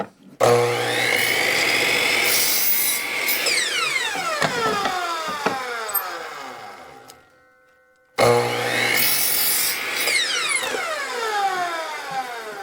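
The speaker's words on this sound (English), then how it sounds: "give her a little sand job here" A 2x4 wood bird feeder post is sanded with a loud, close power tool whose motor whine runs steadily, winds down and nearly stops, then starts up again and keeps running.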